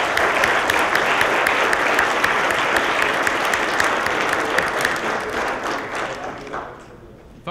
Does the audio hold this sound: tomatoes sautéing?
no